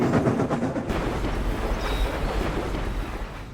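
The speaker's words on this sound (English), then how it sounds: "Express train coming through." A rushing train roars past at speed, a loud continuous rumble with faint rhythmic rattling, no voices.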